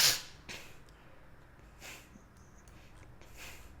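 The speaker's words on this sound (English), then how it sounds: "Excuse me, I still have the sniffles." A few close, soft nasal sniffs and snorts spaced apart, with near silence between them.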